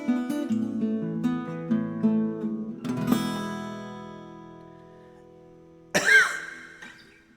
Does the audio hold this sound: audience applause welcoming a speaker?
no